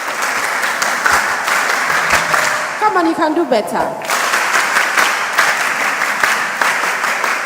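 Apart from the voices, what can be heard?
audience applause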